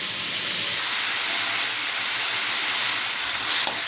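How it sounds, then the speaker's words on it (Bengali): Chili and spices fried in a pan with ginger, onion and garlic paste, salt and turmeric, giving a steady, close sizzling hiss that runs unbroken and alone throughout. "এখন মরিচ মশলা কষিয়ে নিচ্ছি"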